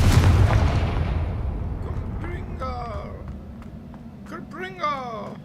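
A Confringo fire spell explodes in Hogwarts Legacy with a loud, deep blast at the start that rumbles away, followed by whooshing, swooping magical effects and a voice speaking over the fading rumble.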